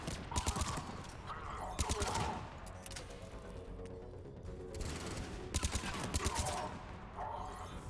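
Rapid bursts of gunfire from a Mass Effect 3 firefight, several clustered volleys close and loud over a busy background of game sound.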